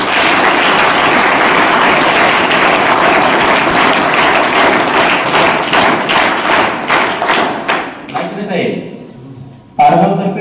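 An audience at a tree-planting project event breaks into loud, dense applause that turns into rhythmic clapping and then dies away, followed by a sudden thump near the end.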